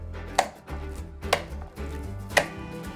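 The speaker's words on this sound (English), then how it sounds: "Take one half and throw it into the bowl multiple times to remove the air" A ground meat mixture for Japanese stewed hamburg steaks is thrown into a bowl by hand three times, each landing a sharp, close slap, spaced roughly a second apart, with a low background hum.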